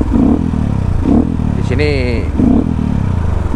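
A Yamaha WR motorcycle with lowered compression idles loudly and close, with throttle blips surging in rhythmic pulses while people talk over it.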